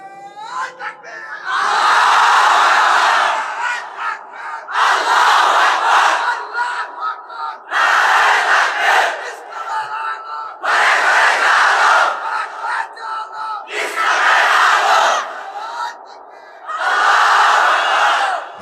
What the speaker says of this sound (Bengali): তুমি আরেকবার তাকবীর দাও, দাও তাকবীর দাও একটা